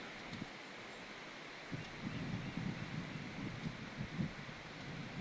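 Strong storm wind roars in a broad, continuous rush with gusty low rumbles buffeting the microphone, steady and loud throughout.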